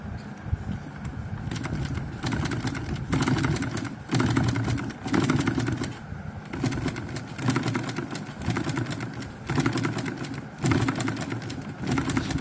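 A sewing machine stitches fabric that is puckering and gathering, running in a series of short mechanical bursts separated by brief pauses, close and steady.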